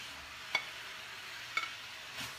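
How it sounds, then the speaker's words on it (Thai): A Thai sweet and sour stir-fry sizzles softly in a pan, with a few sharp utensil clanks against the metal spaced about a second apart. "ผัดเปรี้ยวหวานสูตรดิฉันนะคะ"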